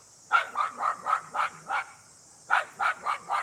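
A local dog barks repeatedly outdoors in Minnesota, two bursts of steady, evenly spaced barks, fairly close and loud, with a pause between the runs.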